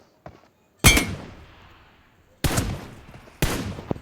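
An M416 rifle in a video game fires at an armored target in a few sharp, loud reports: one faint early pop, then three heavy bursts with metallic ringing and decaying tails, close and alone.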